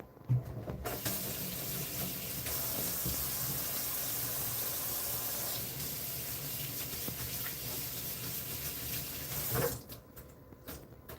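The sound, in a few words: washing hands under running tap water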